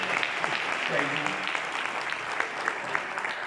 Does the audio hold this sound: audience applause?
yes